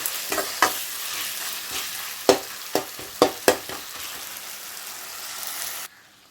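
Tomatoes fry in a pan with a loud, steady sizzle, broken by several sharp spoon taps and scrapes as they are stirred, ending abruptly.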